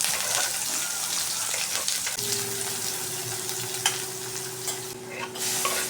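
Onions and curry leaves fry in an Indian home kitchen pan, a steady close hiss and crackle that swells when the onions go in, with occasional stirring scrapes and no voices.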